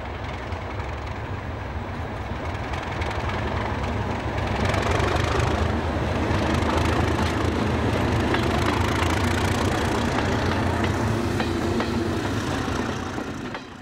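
A Class 37 diesel locomotive hauling a freight train on the Rumney line in South Wales in the 1980s, a loud steady engine drone that swells and holds with faint rail clatter, no voices.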